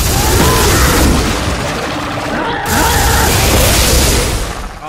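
Exploding enemies in the video game Dead Space 3 blow up in loud, dense booming blasts that run almost continuously, dip briefly, then roar on again close and heavy, with a little talk underneath.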